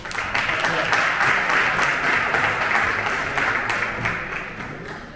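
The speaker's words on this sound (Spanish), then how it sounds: "Le damos un aplauso." Sustained audience applause at a financial-marathon AI presentation in Tres Cantos, a steady dense wash of clapping that holds for about five seconds before fading slightly at the end.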